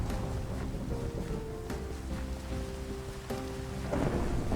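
Steady rain pours with rumbling thunder beneath it in the game Thunder Island, a tonal game-style ambience threading through, and the storm swelling louder near the end.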